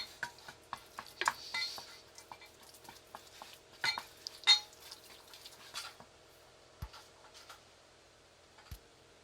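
A spoon stirs milk vigorously into a thickening sauce in a pan for a roast vegetable lasagne, making quick irregular clinks, taps and wet scraping close by, with brief pauses and no talk.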